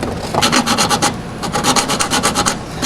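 A bare hacksaw blade saws through sheet metal on a 1986 GMC truck cab, a rapid rasping run of strokes in two bursts with a short pause between, close and loud with no talk.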